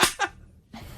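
A single close sneeze bursts out sharply with a quick inhaled catch, followed by a brief pause and faint breathy noise.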